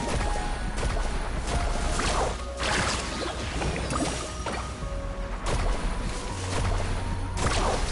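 A surfboard skims across water in Genshin Impact, a rushing, splashing wash of spray with bursts that rise and fall as it carves along, close and alone with no talking.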